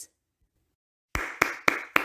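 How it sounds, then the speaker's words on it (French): Applause from the ogre parents at the end of a read-aloud children's story: four sharp, separate claps in an uneven rhythm, close and moderately loud, following a second of silence. "Ils applaudissent tant et si bien que le petit ogre sort tout surpris"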